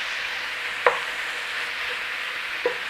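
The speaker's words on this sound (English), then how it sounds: "So just cook up your meat" Sausage meat cooking in a pan with celery salt, a steady soft sizzle throughout, broken by a couple of brief scraping knocks.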